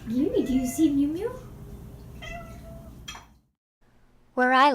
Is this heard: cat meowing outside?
yes